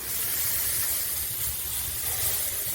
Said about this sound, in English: You're going to spray them up real good.